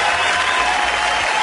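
Brief burst of applause in a studio setting, steady dense clapping heard alone and close throughout.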